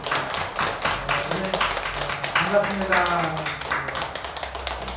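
Church congregation clapping in welcome during a service, a busy patter of handclaps running throughout beneath a speaker's greeting.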